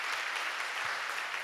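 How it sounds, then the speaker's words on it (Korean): A church youth service audience claps for a young singer's first performance, a dense, steady wash of applause throughout. "박수 한번 보내주세요"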